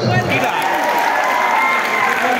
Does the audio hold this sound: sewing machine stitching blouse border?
no